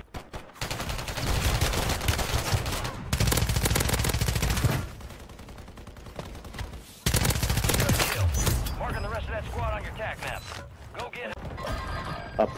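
Loud automatic gunfire bursts in a Call of Duty: Warzone match, long rattling volleys broken by short pauses, with players talking over and between the shots.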